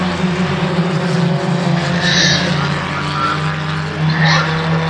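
Historic Formula Ford single-seaters race side by side at Thruxton, a loud blended engine drone with shifting pitch as cars pass, with a commentator talking over it.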